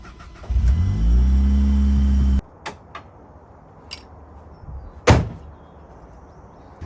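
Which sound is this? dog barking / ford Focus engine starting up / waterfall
ford Focus engine starting up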